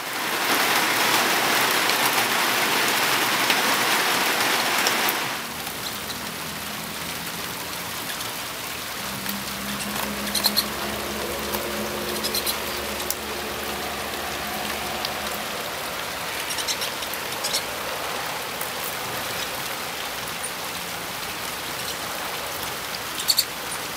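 Steady rain pours down on a farm near a hot grill, a loud even hiss of drops on surfaces that drops to a softer patter partway through, with low rumbling underneath.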